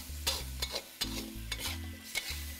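Beef and asparagus stir-fry is tossed in a hot pan, giving a quick run of sizzling, scraping swooshes that repeat about every half second over a low kitchen hum.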